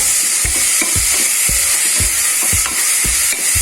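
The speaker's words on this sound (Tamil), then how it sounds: "இஞ்சி பூண்டு வதங்குற நேரத்தில் அடி பிடிச்சிடும். உடனே தக்காளி சேர்த்துடுங்க." Ginger, garlic and tomato sizzle loudly in a pan over medium flame, with a steady hiss broken by regular scraping stirs of a spoon against the pan, and no voices.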